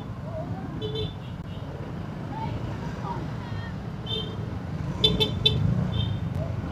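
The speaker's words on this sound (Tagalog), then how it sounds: "Pero, traffic din dito eh." Heavy, congested road traffic near Cupang, Muntinlupa City: a steady engine and road rumble with several short car horn toots and honks, some near, clustered late in the stretch.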